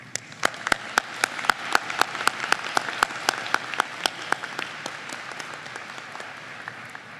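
Graduates and guests applaud at a university winter commencement ceremony, a large hall of clapping with a few sharp, distinct claps standing out, fading gradually toward the end.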